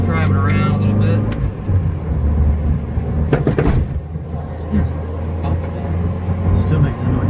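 A Toyota AE86 with factory blown suspension drives along, a low steady engine and road rumble throughout with some clunks and knocks from the car, while a person talks over it.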